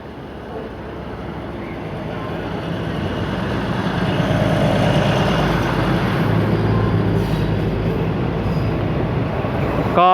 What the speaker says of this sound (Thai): ก็เคลื่อนขบวนออกแล้วนะครับ